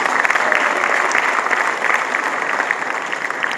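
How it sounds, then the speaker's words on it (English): Dense, steady applause from an audience at a stage event, a continuous wash of many hands clapping at an even loudness for several seconds, with no speech. "let's give him another round of applause"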